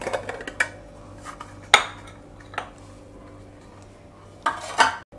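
Dhokla being eased out of a mug onto a plate with a knife, heard as a few scattered close clinks and scrapes of metal against ceramic over a quiet background.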